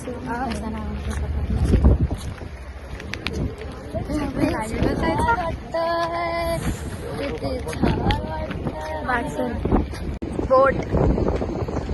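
A crowded boat crosses the water at Kanyakumari, with wind buffeting the microphone, a low rumble underneath, and a brief tonal horn-like blast in the middle, while several people talk and chatter nearby throughout.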